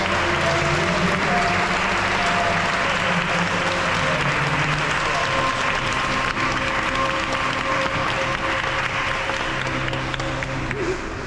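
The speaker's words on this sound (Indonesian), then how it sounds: "Kita beri tepuk tangan yang meriah untuk saudara" Wedding guests give a long, sustained round of applause for the couple at a holy matrimony ceremony, dense hand clapping filling the room evenly from start to finish, with faint background music or murmur beneath.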